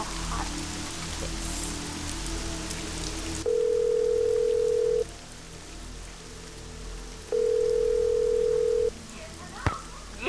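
A steady phone dial tone sounds in two long bursts with a pause between, while placing a call to Hot Fix in the Nancy Drew: Legend of the Crystal Skull game, over a soft rain-like hiss.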